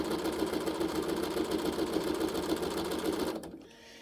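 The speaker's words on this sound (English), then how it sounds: "I'm just going to keep stitching my pieces on as I go down." A sewing machine stitches raw-edge appliqué quilt pieces, with a fast, steady mechanical whir running continuously and then stopping abruptly near the end.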